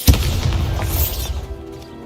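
A Bombarda blasting spell detonates in Hogwarts Legacy with a sharp, loud initial crack and shattering burst, followed by a rumbling crash of debris that trails off within two seconds.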